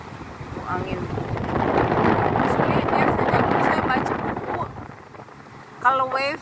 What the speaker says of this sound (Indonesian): di ini karena angin besar tuh ombaknya jadi tambah besar